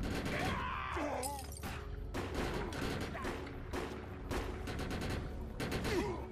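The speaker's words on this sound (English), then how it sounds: "What are we shooting at exactly?" Rapid bursts of gunfire from the video game Defiance, repeated sharp shots and volleys in quick succession, loud and dense throughout with a faint voice briefly underneath.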